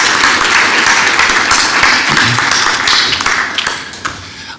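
Meeting audience applauding together for several seconds, steady dense clapping that tapers off toward the end.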